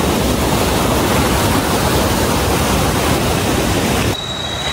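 A strong river current rushing at a slippery river crossing on Mt. Ngala, a dense, loud, continuous roar of water that drops slightly in level just before the end.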